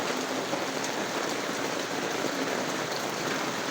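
Steady rain falls as Typhoon Tino (Kalmaegi) approaches, a constant soft hiss of drops on surfaces, moderately loud and even throughout with no voices.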